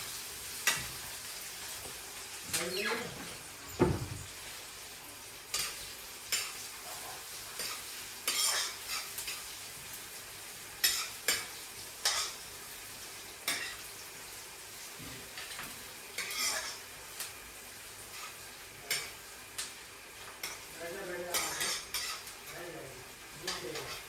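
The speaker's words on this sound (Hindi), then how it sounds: "प्याज को रेड होने तक, थोड़ा हल्का ब्राउन होने तक पका लेंगे।" Onions being cooked to a light golden brown in a pan, with a soft sizzle running underneath repeated sharp clinks and scrapes of a utensil stirring against the pan at an uneven rhythm.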